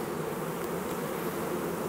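Honey bees flying in to a hive, a steady dense buzzing hum that fills the scene without a break and stays close and even in loudness.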